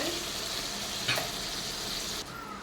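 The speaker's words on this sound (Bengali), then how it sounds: "চিংড়ি মাছটাকে হালকা করে ভেজে নেব" Prawns shallow-frying in a pan give a steady, close sizzle throughout, with a brief scrape near the middle and the hiss easing slightly toward the end.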